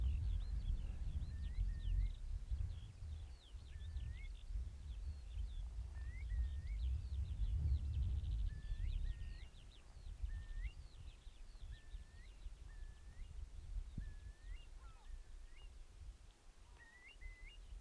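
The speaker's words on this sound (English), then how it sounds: "Lovely listening to the bird song." Small birds sing in the open Pentland Hills, repeated short chirping phrases spaced a few seconds apart, fairly faint and distant over a steady wind rumble.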